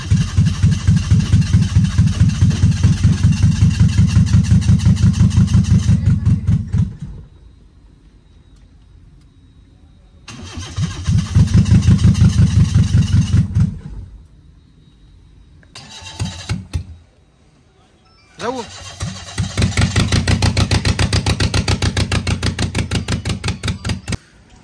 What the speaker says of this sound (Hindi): अच्छा जी खैबर हमने स्टार्ट कर दी है